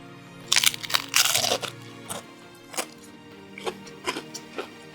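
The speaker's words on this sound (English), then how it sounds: "Let's listen to the crunch." Crisp, loud crunches of teeth biting into a Vietnamese banh xeo taco, a shrimp and pork crepe. A few sharp cracks come first, followed by softer chewing crunches, close to the mic.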